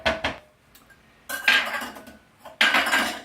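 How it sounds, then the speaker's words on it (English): Spoon clattering and scraping in a microwave-safe bowl as sticky ingredients are mixed with sugar, two bursts of close, loud mixing separated by a brief pause, no voices. "we're just going to mix these two ingredients in the microwave safe bowl"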